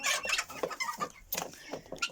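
Hens settling into the henhouse at dusk cluck in short, scattered bursts, close by and a few at a time, with quiet gaps between calls.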